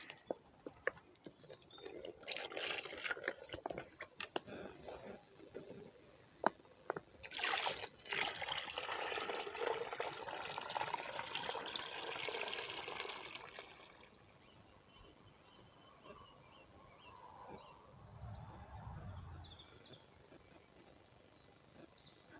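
Dirty water is poured through a pre-filter bag into a LifeSaver Cube water filter: splashing pours and a steady nearby trickle, heavier early on, then a softer dribble with faint birdsong outside.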